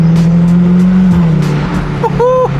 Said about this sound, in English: Not only am I driving a Ferrari F8